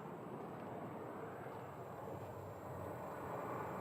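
Southwest Boeing 737 Max 8 airliner taxiing at Sky Harbor, a steady broadband jet engine rumble and hiss held at a constant level for the whole stretch, with a faint high whine above it and no talk.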